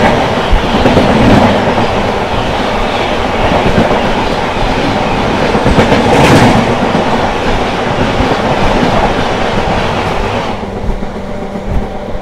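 A passenger train pulls out of Renigunta station with a loud, continuous rumble and rhythmic clickety-clack of wheels over rail joints, heard from on board, easing slightly near the end.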